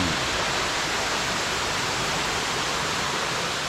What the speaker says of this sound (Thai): บริเวณนี้ก็จะเป็นน้ำตกด้านบนนะครับ